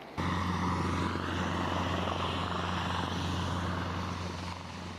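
Military helicopters fly overhead near a farming village in Ecuador, their rotors a loud, steady, throbbing drone that fills the scene and fades slightly at the end.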